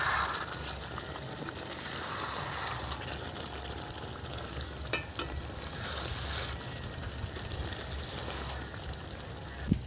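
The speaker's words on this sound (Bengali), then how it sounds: "ওদিকে তরকারি ফুটছে, হয়েও এসছে তরকারি।" Curry simmers in a pot in a home kitchen, giving off a low, continuous bubbling hiss at moderate distance with a few brief clinks near the end.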